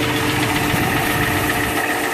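A hydrolocked car engine idles roughly with an uneven, knocking rumble, steady and close, with no voices over it.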